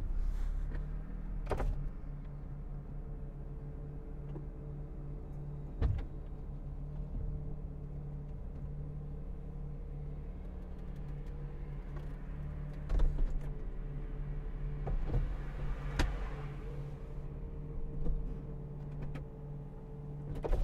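Electric motor whir and mechanical clunks of a 2006 Mercedes-Benz SL350 retractable hardtop closing, a steady low hum with a few louder thunks as panels lock, heard from nearby without talk.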